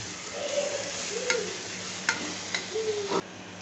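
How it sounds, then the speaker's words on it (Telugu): Tomatoes fry in a pan for tomato rice with a soft background sizzle. Several distinct spatula clicks and scrapes against the pan stand out, and no one speaks. "టొమాటోస్ మంచిగా వేగుతున్నాయి."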